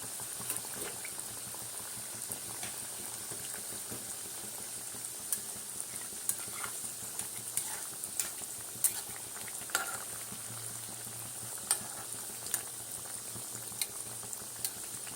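Mung dal stuffed khasta kachori fry in hot oil over a lowered flame, a soft continuous bubbling sizzle with scattered small pops and crackles, faint and steady throughout.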